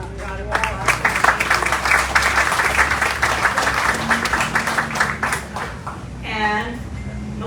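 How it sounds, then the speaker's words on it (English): Applause at a Port Week opening ceremony in Guam, a dense wash of clapping that rises after a half second, holds strongly for several seconds and then thins toward the end, with a voice talking over it. "We've given them a round of applause"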